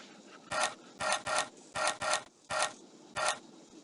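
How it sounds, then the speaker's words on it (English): A screwdriver drives in screws while joining wooden rocking horse pieces in the PC game Tonka Workshop: seven short rasping, ratcheting bursts, some in quick pairs, play close and alone with no talk. "You'll need the screwdriver to connect the pieces to the horse."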